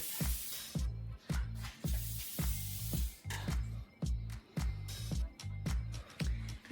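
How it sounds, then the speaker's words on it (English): Lubricant sprays onto garage door springs in a rapid series of short hissing bursts, about a dozen evenly paced spurts, close and fairly quiet, with no talking. "You also want to spray your springs."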